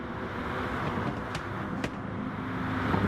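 Corvette and Lancer race cars lapping the Red Bull Ring in a feature race, a steady loud engine drone with a couple of brief sharp transients, no talk.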